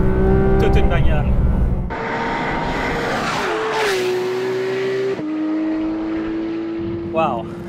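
A 2019 Porsche 911 GT3 RS driven on a race track, its engine note holding a loud, steady whine that shifts pitch through gear changes and corners, close and continuous.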